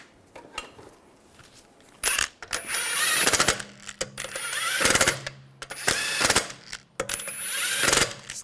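Lug nuts on a 2009-2010 BMW 535i xDrive wheel being snugged down with a power tool, several loud bursts of ratcheting rattle separated by brief quiet gaps, close and sharp.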